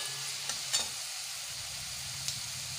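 Tomato pickle with fried onions, cumin, mustard seeds and turmeric is stirred and mixed in a pan, a soft continuous sizzle broken by a few light scraping knocks of the spoon.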